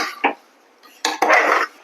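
Tomatoes and beetroot stirred in a cooking pot for soup: a few sharp spoon-on-metal clinks and scrapes, close and fairly loud, separated by a brief quiet pause.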